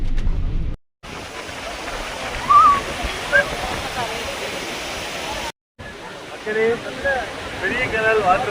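A large waterfall near Munnar gives a broad, continuous rushing roar that fills the scene, with a couple of brief dropouts and faint voices and birdsong over the water.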